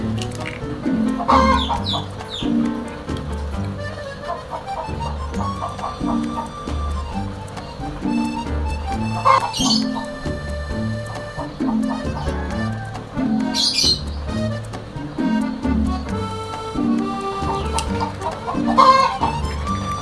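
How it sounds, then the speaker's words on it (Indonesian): A rooster clucks and squawks repeatedly, close and loud, with a few crowing bursts breaking through the ongoing chatter of fowl. "Maaf suara ayam jagonya"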